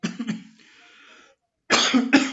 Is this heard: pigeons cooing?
no